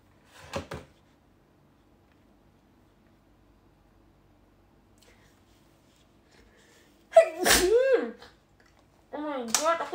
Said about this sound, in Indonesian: Oh my god, aku bersin.